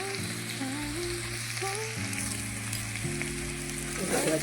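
Oil sizzling in a pan during Bengali home cooking, a steady crackling hiss alongside sustained tonal hum, with a brief flurry of louder spattering near the end.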